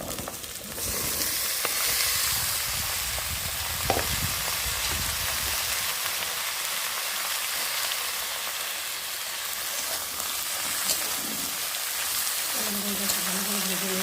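Cut potato and eggplant fry in a pan with a steady, dense sizzle and crackle that runs unbroken through the stretch, with a few faint clinks and no talk.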